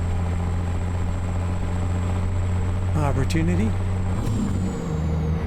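Heavy truck engine rated at 1,005 horsepower in American Truck Simulator, a Peterbilt 389, drones steadily with a low continuous rumble throughout, while someone talks over it briefly near the middle.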